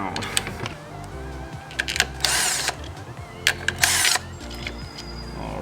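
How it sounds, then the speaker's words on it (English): A small ratchet clicks as it loosens the clutch cover bolts on a Benelli TNT135 motorcycle, with short bursts of close ratcheting and a few louder mechanical rasps in between. "you're going to have to use a little ratchet here and just slowly start loosening them."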